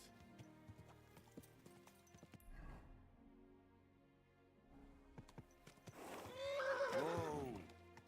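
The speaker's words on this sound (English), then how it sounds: "Easy, good horse." A horse in the medieval video game Kingdom Come: Deliverance II snorts and clip-clops with scattered hoof knocks, then lets out a loud, wavering whinny near the end, fairly close with no talking.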